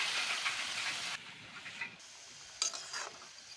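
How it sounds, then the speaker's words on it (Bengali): Chicken and potatoes sautéing in a pan with a splash of water, a soft continuous sizzle and steamy hiss with a few faint scrapes of stirring, close but quiet, no voices. "এখন আর একটু জল দিয়ে আলু দিয়ে ভালো করে কষিয়ে নিই"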